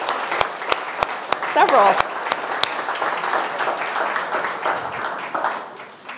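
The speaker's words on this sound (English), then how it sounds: "let's give everybody a round of applause who's our former Grand Award winners" An audience at an awards evening applauds former Grand Award winners. The clapping is loud and sustained, with some sharp individual claps, and someone speaks over it at the start.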